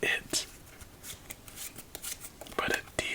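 A deck of playing cards is shuffled during a quiet solitaire game, with crisp riffling bursts and soft flicks of cards, close and intimate, repeating irregularly over about three seconds.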